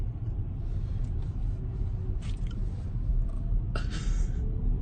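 Low, steady road rumble inside a moving car driving itself on the road, with soft tire and cabin noise and a couple of faint brief rustles.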